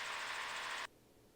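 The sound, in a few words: gyrocopter engine whirring in flight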